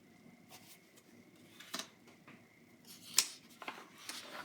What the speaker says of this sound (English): You just cut that piece in half.